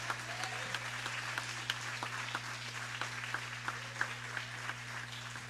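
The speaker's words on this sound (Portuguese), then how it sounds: "Aplaudam o Senhor nesse momento." A church congregation applauds during a worship service, a steady, moderately distant wash of clapping with a few sharper claps standing out over a constant low hum.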